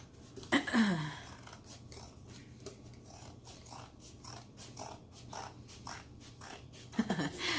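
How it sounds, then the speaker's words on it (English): Scissors snip through a junk journal cover in a series of crisp, close cuts, with a few louder crunchy slices at the start and end and quieter clicks between. "I'm going to cut these excess pieces off"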